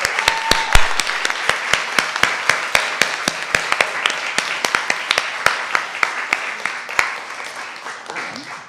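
A small audience at a design grants pitch night applauds with sparse, distinct individual claps that sound close and fairly loud over a low wash of clapping, steady for several seconds.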